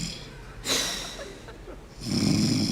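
A person snoring nearby with a few loud, rasping, snorting breaths rising and falling over about three seconds, with a short quiet stretch between them.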